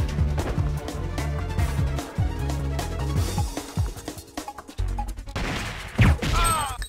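Sniper-rifle and automatic gunfire from the arcade shooter Silent Scope 3, loud and dense, with repeated sharp shots, crashing impacts and a reload clatter over a background music track.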